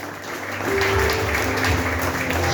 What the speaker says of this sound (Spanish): Un aplauso, Dios bendiga a ella.